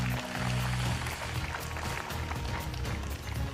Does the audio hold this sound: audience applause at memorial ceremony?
yes